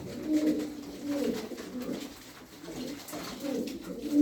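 A pigeon coos in repeated soft, low rolling phrases close by in a loft, several calls spaced across the span with faint background noise and no talk.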